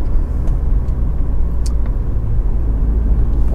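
A 1994 BMW 318is E36 Class II Motorsport sedan with a sporty 1990s four-cylinder engine, a steady low droning rumble that holds at an even level throughout, with no clear revving and no voices.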